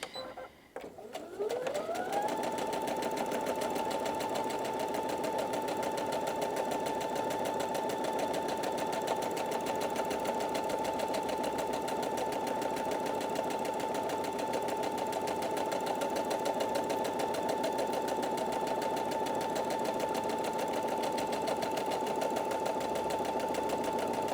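A Brother Innov-is NV2700 sewing and embroidery machine spins up after a brief handling noise, then sews in one long, even, humming run with a steady whirring drone, close and alone.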